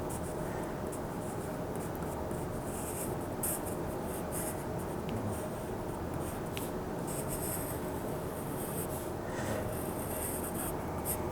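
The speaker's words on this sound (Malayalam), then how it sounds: "ബ്രിഞ്ചൽ വരയ്ക്കുന്നത് കാണിക്കാം." A pencil draws an eggplant shape on paper, giving a steady, continuous scratching and rubbing of graphite close up, with slight variations in pressure and no pauses throughout.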